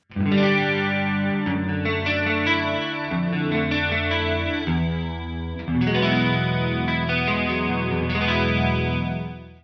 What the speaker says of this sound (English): I'll start with a more subtle detune here on each of these